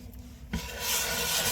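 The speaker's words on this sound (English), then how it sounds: "And you just scrub it out." A wooden cutting board scrubbed with lemon and salt, a gritty rasping rub that starts after a short thump and continues steadily and close.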